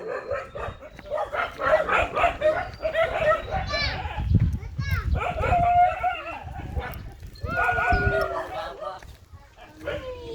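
Dogs bark in short bursts amid lively chatter and children's voices, with people talking throughout.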